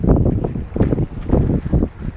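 Gusty wind buffets the microphone aboard a sailboat racing two-handed across the Skagerrak, arriving as low rumbling surges that rise and fall every half second or so, close and fairly loud, with no one talking.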